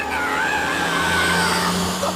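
A delivery truck barrels along a road in an anime scene, with a loud, steady engine roar and a high tire-squeal whine sweeping across the whole stretch.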